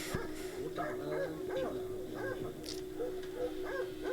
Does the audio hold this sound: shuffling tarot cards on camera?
no